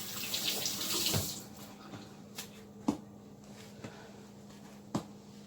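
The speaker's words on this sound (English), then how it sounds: "Let me rinse my hands" A kitchen tap runs briefly as hands are rinsed under it, a close hiss of water that stops after about a second, followed by a few soft knocks and clicks.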